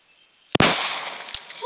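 A single sharp gunshot fired by a first-time shooter cracks out loud and close, followed by a long decaying echo, with a fainter second pop about a second later.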